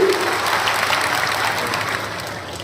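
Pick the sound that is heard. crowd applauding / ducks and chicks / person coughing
crowd applauding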